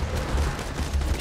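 Gunfire in the video game Borderlands 2, a dense, steady burst of low booming shots running through the whole short stretch, loud and close with no break.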